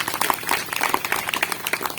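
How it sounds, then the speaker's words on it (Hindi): Church congregation clapping during a Hindi sermon, a dense scattered patter of hand claps filling a short stretch with no speech over it. "सब ताली बजाए यीशु मसीह के लिए।"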